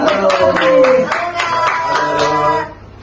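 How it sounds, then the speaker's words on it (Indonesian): A small group claps to welcome a guest, an engineering-faculty activist, onto an environmental podcast: a handful of distinct, fairly close claps over a few seconds with some tonal background sound, ending abruptly. "Tepuk tangan"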